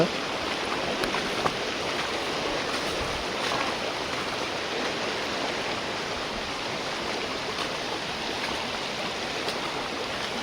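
A river flows steadily on a trek to a Melghat waterfall, its close, even rush of water filling the whole stretch without pause and with no voices over it.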